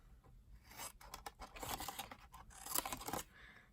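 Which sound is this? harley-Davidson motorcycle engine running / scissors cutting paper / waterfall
scissors cutting paper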